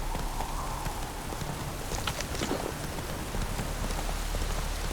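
Geralt's horse Roach gallops through rain in The Witcher 3 video game, the quick steady clip-clop of hooves running close beneath a constant hiss of rainfall.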